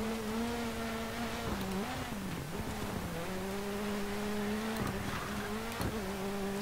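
A rally car engine in the DiRT 4 video game drones loudly and steadily, its pitch dipping and rising with gear changes and throttle lifts on a stage in a championship across Wales, Australia and Michigan.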